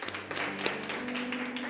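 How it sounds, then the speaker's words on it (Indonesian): Church congregation applauding during a service, a brief wash of many hands clapping at moderate distance, fairly faint, with a sustained tone from music or sound system beneath. "Beri tepuk tangan yang terbaik buat Tuhan."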